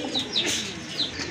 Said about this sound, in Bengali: বিগ সাইজের এক জোড়া কবুতর, দামাদামি করতে পারবেন না কিন্তু